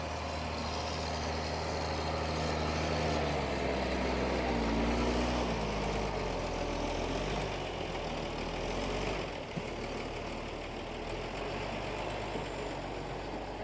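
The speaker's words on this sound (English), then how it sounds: "And here's Alan in the Ford TW35." Vintage Ford TW35 tractor ploughing at a match, its engine giving a steady, loud diesel drone and rumble that carries through without a break, with no voices.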